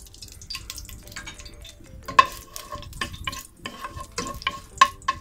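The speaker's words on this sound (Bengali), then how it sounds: "একটু হালকা ফ্রাই করে নেব।" Cardamom pods and torn bay leaf pieces fry lightly in a pan with low, steady crackle, broken by several sharper clinks and scrapes of stirring that stand out alone near the mic.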